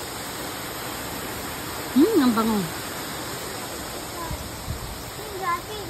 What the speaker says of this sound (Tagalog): Ang sarap pakinggan nung ano, nung daloy ng tubig.